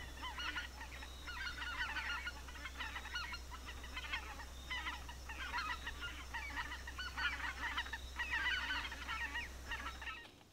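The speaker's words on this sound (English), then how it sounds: "Oh, there goes some geese." Geese honk overhead while flying above autumn woods: a steady stream of overlapping honks from a flock, moderately distant, over a low steady rumble.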